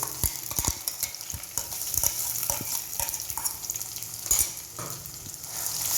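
Onion and tomato puree sautéing in a pan for a Gujarati brinjal olo, with a close, steady sizzle broken by repeated sharp scrapes and clicks of a spoon stirring against the pan.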